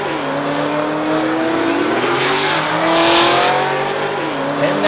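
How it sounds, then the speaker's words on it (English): Cadillac CTS-V and Ford Mustang drag racing, engines roaring with rising revs as they launch and run down the strip, loud and sustained at a distance. "Louis on the Pertec side in the Ford Mustang. John in the Caddy. This is a call out for the number 5 spot."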